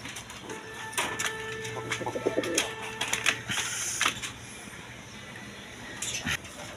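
Pigeons coo softly in a small cage kept by a seller, a pair among other birds, the low murmurs recurring faintly among clicks and rustling nearby, with light background noise throughout.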